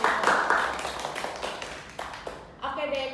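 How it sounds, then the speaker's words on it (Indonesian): Applause and clapping from a podcast studio audience: a dense burst of claps at the start that fades, with a voice starting to talk over the end. "Kita beri tepuk tangan dulu."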